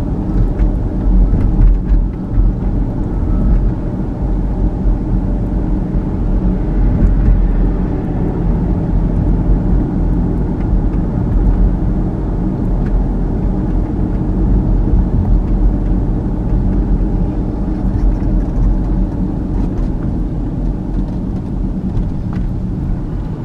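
A car drives through downtown Trenton, its cabin filled with a steady, heavy low rumble of engine and road noise that holds evenly throughout without voices.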